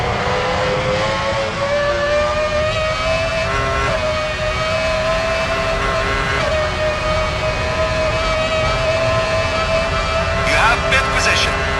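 Formula One engines at Monza in a racing game scream at high revs in a sustained, slowly wavering whine, loud and continuous, with a brief extra burst of noise near the end.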